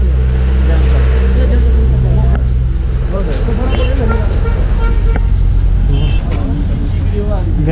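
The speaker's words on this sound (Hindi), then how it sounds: "सो अभी मैं दार्जिलिंग बस स्टैंड में पहुंच चुका हूँ" At a busy Darjeeling bus stand, a loud dense wash of idling engines and passing cars and buses fills the air, with horns tooting now and then and people talking throughout.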